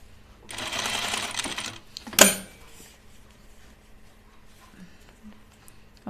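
A sewing machine top stitches a felt piece, a bright whirring burst of about a second and a half, followed by a sharp clatter and then quiet handling noises.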